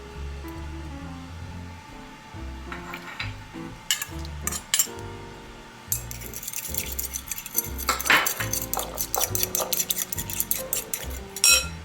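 Pork chop ingredients being mixed in a bowl with a utensil, giving irregular clinks and scraping knocks against the dish, with louder, busier clatter in the second half and faint talk at times.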